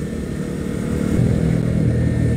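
A 2017 Yamaha MT-25 motorcycle engine runs steadily during a test ride, its mid-pitched drone building slightly louder partway through with no talking.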